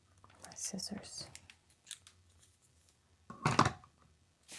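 Small scissors snip through paper in one short, close burst of quick cuts, preceded by soft spoken voice and quiet handling sounds.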